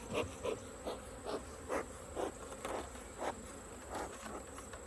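Agitated honeybees buzz steadily inside a nuc, the drone rising in a series of short pulsing swells about twice a second over a constant hum, close and fairly quiet, with no talking.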